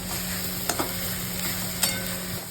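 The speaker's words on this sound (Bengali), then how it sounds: "এবার দিয়ে দেবো পেঁয়াজগুলো, নাড়িয়ে নেবো ভালো করে" Onions and shrimp sizzle in a pan as they are stirred, giving a steady close fry with a few light scraping clicks from the spoon.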